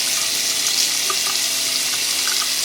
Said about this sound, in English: now that the water is hot, I'll put to the side a little bit of warm water